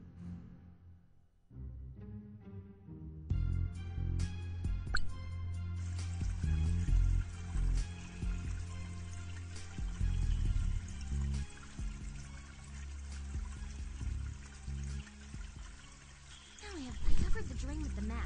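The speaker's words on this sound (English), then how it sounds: "The water begins to rise." Water pours from a sink in the Escape flash video game, a steady splashing stream that fills the scene for most of the stretch over game music and effects.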